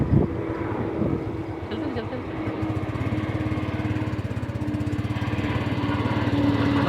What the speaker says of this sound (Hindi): भाई ये देखिए जहाज़, खूबसूरत जहाज़ भी जा रहा है।